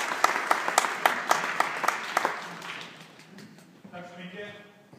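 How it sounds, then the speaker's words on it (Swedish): An audience claps at an opening speech, sharp individual claps at first in a loose rhythm that thin out and fade, with a voice beginning to speak toward the end. "Applåd till er."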